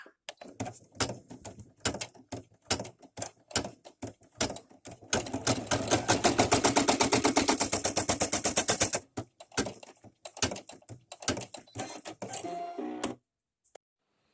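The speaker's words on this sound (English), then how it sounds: "Now we will do the tack down stitch for the inner part of the ear." A Brother PE800 embroidery machine stitches a tack-down stitch for an in-the-hoop cat bag: clattering bursts of needle strokes, then a long fast continuous run, then further short bursts before it stops, close and with no voices.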